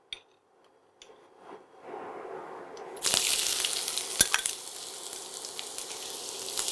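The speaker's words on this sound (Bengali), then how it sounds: "এবার এটাকে একটু ব্রাউন করে ভাজতে হবে।" Onions drop into hot oil and burst into a loud sizzle that swells and continues steadily after a quiet start with faint clicks.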